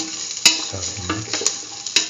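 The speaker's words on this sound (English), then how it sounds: "keep on sauteing." A rice mix with salt and saffron for corn coconut milk rice being sautéed in a pan: quick spatula scrapes and three sharp clacks against the pan over a soft sizzle, close and clear.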